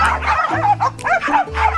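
Corgis bark and yip in quick, loud, close bursts, several overlapping barks in rapid succession.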